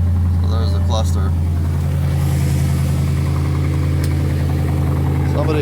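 Unmuffled Mercedes CL55 AMG with mufflers and resonator cut off, running steadily with a loud, deep, rumbling drone and low vibration throughout.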